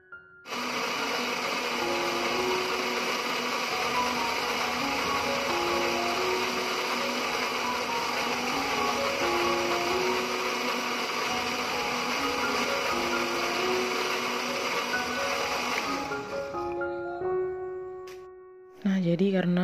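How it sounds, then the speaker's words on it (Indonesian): An electric blender whirs loudly and steadily while grinding spice paste ingredients for tuna pampis, a continuous motor drone with shifting pitch, then spins down near the end before a brief final burst. "kemudian sebentar kita akan blend duluan untuk bahan-bahan dari bumbu halusnya"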